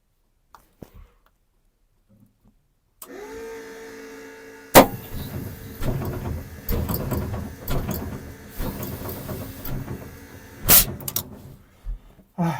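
An ageing BMP infantry fighting vehicle is air-started from a cylinder: after near silence, a hiss and whine rise, then a sudden loud burst as the engine catches and runs roughly, rumbling close by.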